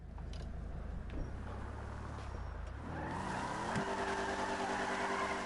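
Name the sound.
car driving in the video game GTA 5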